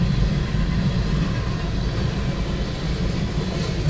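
A CSX southbound freight train of auto racks, scrap and tank cars rolls past at close range in Georgiana, Alabama, a steady loud rumble with a faint rhythmic clatter of wheels, no voices.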